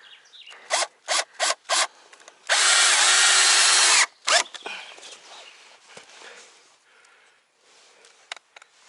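A power drill driving a self-tapping screw into wood while a bed is built in a forest dugout: several short trigger bursts, then one loud sustained run. Afterward come softer handling sounds, close up and without speech.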